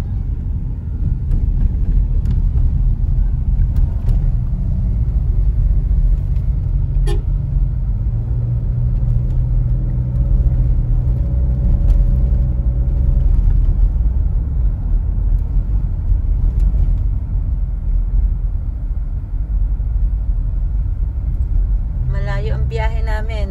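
A car rolls along a new road near Santa Rosa with a steady, close interior rumble of engine and tires throughout, while people talk over it and a brief clatter sounds at the end.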